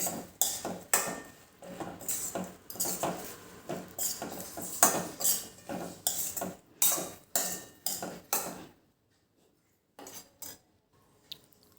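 Lilva kadhi stirred in a pot over a low gas flame, a rhythmic run of metallic spoon scrapes and clinks against the pot that goes on for several seconds and then stops, leaving near silence with a few faint taps.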